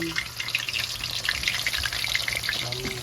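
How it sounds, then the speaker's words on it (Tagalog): Dried milkfish (daing na bangus) frying in a pan makes a dense, continuous spattering sizzle, close and fairly loud, with faint voices underneath. "Habang nagprito ako sa aking daing na bangos"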